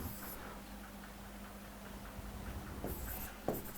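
Marker or chalk writing on a classroom board, faint scratchy strokes and light taps with a couple of sharper knocks near the end, over a low steady hum.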